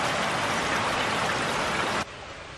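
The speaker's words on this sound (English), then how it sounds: "It's raining." Rain falling as a dense, steady hiss that fills the clip for two seconds, then drops abruptly to a quieter, softer rain sound.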